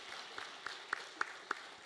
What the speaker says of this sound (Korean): 하나님께 영광의 박수 올리도록 하겠습니다.